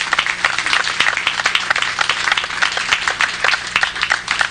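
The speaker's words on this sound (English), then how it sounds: "give them a round of applause for taking time out of their day." Audience applause at an elementary school project event, many hands clapping fast and fairly loud in a steady, close-sounding burst that keeps going throughout.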